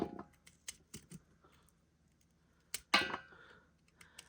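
Knife cutting watermelon rind into slices about an inch thick, heard as a few faint, sharp crisp cuts spaced irregularly in a quiet kitchen, with no talk.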